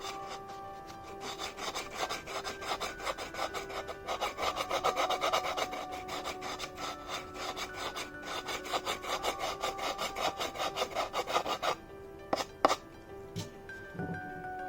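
A wooden penhold table tennis blade sanded side to side in quick, steady rasping strokes, close and fairly quiet, ending in a few scattered scrapes and knocks.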